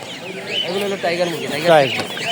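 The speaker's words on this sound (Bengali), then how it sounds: "এগুলা কি মুরগি ভাইয়া" Chickens about 25 days old cluck in short, rising calls close by at a poultry market in Fatullah while a person talks over them.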